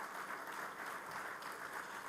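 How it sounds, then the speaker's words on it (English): A steady wash of crowd applause fills the hall at a CAF awards ceremony as the audience claps for Rwandan President Paul Kagame, dense and continuous with no voices on top. "Can we please clap hands for him?"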